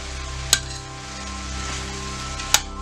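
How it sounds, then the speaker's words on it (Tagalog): Baguio beans, carrots and ground pork sizzle steadily in a pan under a constant hum, and two sharp spatula scrapes or clinks stand out. No one speaks. "Haluin nyo lang."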